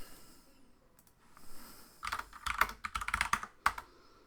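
Short burst of typing on a computer keyboard while entering Vim leader-key shortcuts, starting about halfway through as a cluster of quick, close, crisp key clicks, with no talking.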